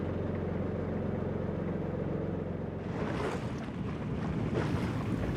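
Wind and sea swell surround a sailboat leaving harbour. A steady low droning hum gives way to rushing gusts and splashing water, loud and close to the microphone, with no voices.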